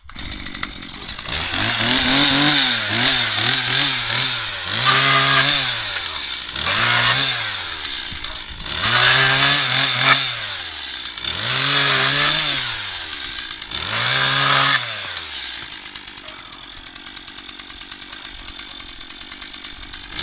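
A chainsaw cuts firewood in a rural village, revving loudly in about six rhythmic bursts that rise and fall. Then it drops back to a quieter idle.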